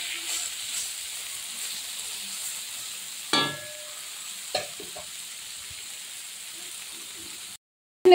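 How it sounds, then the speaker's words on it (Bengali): Gima greens with mustard and dried chilli paste hiss softly in a pan on low to medium heat, while a spatula scrapes now and then in a few sharp strokes, close and quiet with no speech. "শুধু এইভাবে আমি অনবরত নেড়ে যাব।"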